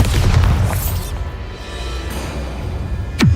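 A Bombarda spell explosion in Hogwarts Legacy lands as a loud, deep boom that rumbles and then fades, followed by a brief whooshing burst near the end.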